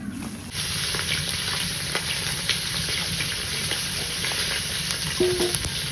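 Neem leaves fry in hot oil during an outdoor family picnic, giving a steady, close crackling sizzle with faint stirring clicks throughout.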